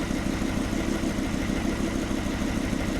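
A Kubota M125X tractor's diesel engine runs steadily at idle with a low, continuous rumble, close and unbroken, with no talk over it.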